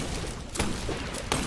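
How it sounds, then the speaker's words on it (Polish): Gunfire in the video game Wizard With a Gun: two sharp, loud shots about three-quarters of a second apart, each a bright burst over a low rumbling background, with no talk. "Ej, dlaczego strzelam, jakbym w ogóle nie potrafił wycelować?"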